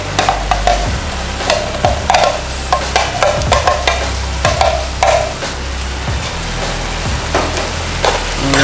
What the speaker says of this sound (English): Next I'm going to add, of course, the onions. Diced onions. And finally we're going to add the minced garlic.